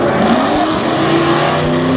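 A race truck roars around the asphalt oval at Lake Erie Speedway in three-wide racing, its engine loud and close with a continuous droning snarl that holds steady throughout.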